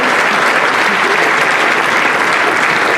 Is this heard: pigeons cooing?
no